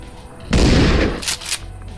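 A burning volley in the zombie video game Dead Age erupts as a loud, booming burst of gunfire lasting over half a second, followed by two shorter sharp cracks.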